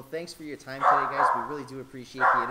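A dog barks and yips in the background, a few short sharp calls mixed under a man's steady conversation.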